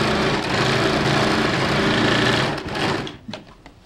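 A sewing machine runs close and steadily, stitching a quarter-inch seam on a blouse, then slows and stops near the end, leaving a few faint handling clicks.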